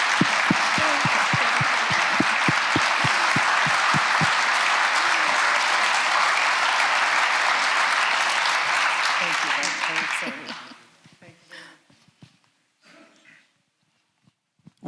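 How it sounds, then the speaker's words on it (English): Loud sustained applause fills a conference awards ceremony for about ten seconds, with rhythmic clapping at the start, then fades out into quiet room noise and a few scattered sounds. "big round of applause, please, for Liz, Adele, and for Neil"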